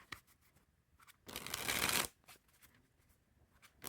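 Gold Bicycle 8-bit playing cards being handled and shuffled, with a few light card flicks leading into a dense, loud riffle burst lasting under a second, then more soft snaps and handling noises afterward.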